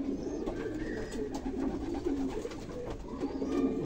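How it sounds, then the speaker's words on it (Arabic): Pigeons of an old breeding line coo softly in low, repeated throaty phrases close by, with faint rustling and no talk. "هذه من الحمام تبارك الله القديم"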